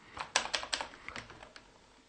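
Close, crisp computer keyboard typing in a Vim text editor: a quick run of about half a dozen sharp key clicks, then a few softer, slower taps trailing off, with no voices.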